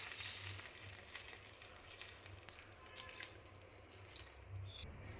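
Sesame seeds sizzle and crackle in hot tempering oil poured over farali dhokla, a soft, steady, close frying hiss with small pops, heard alone.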